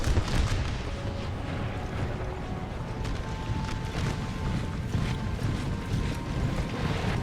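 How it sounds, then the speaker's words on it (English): Cannon fire rumbles across a battlefield in an American Civil War video game, with several heavy booms and crackling blasts coming over a dense, continuous din of combat, loud and close, with no talking. "That artillery released a ton of shrapnel that cut down 6 troops in one fell swoop."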